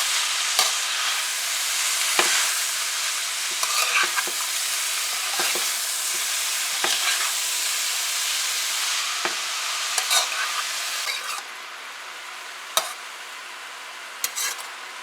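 Pak choi and shrimp fry in a pan with a bright, steady sizzle while a utensil stirs and scrapes through them in repeated knocks and clacks, up close and without talk.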